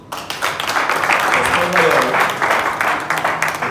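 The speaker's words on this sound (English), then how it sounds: "Better round of applause again." An event audience gives another round of applause, a busy, moderately loud patter of many hands that stays fairly even throughout. Someone talks over the clapping.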